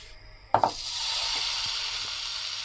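Flourless crepe batter hits a hot frying pan and erupts into a sharp sizzle that settles into a steady, close hiss of frying.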